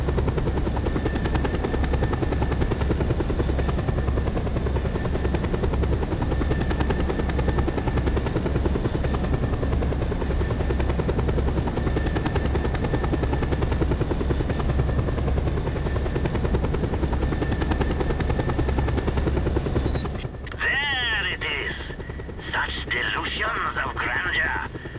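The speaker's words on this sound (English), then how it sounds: "this helicopter has no machine guns" Helicopter flying in Just Cause 2, an unarmed chopper whose steady loud rotor drone and engine hum run for about twenty seconds before dropping slightly as other game noises and chatter break in.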